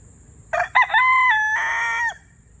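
A rooster crows once, close and loud, a long drawn-out call with a rising start, standing alone against quiet background.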